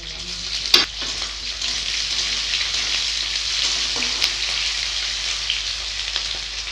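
Onions fry in hot oil with whole spices, bay leaf and garlic, a constant close sizzle with a couple of sharp knocks from a spoon or pan as they are stirred, no voices.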